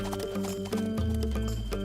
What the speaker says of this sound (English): The goal is to slowly bring the horses up to speed and then start the attack.